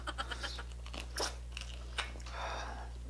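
Crispy deep-fried pork knuckle, crispy pata, is bitten and chewed up close, giving a string of loud, sharp crunches with wetter chewing in between over a steady low hum.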